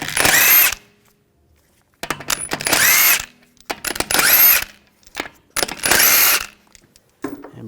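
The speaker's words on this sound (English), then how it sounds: "use a 17mm socket, take these lug bolts out." Power tool spinning out the front wheel lug bolts of a 2007-2013 BMW 328i with a 17mm socket: four loud, close bursts of whirring, each about a second long, separated by short pauses and small metallic clinks.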